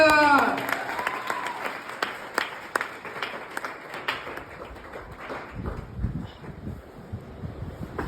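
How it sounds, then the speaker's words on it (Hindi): An audience at a network-marketing seminar in India applauds, a burst of many hands clapping at once that gradually thins into scattered claps and crowd rustle. "गिव अप बिग हैंड में जोड़ा तालियां"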